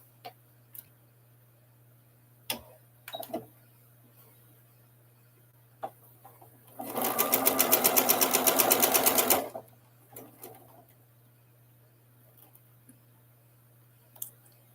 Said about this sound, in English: And now we are going to stitch that together.